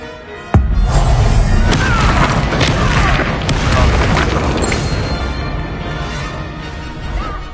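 A Confringo spell explosion in Hogwarts Legacy gameplay: one sudden loud boom that rolls into a long, dense crashing rumble, slowly fading over several seconds.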